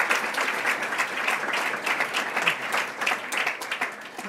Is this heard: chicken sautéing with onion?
no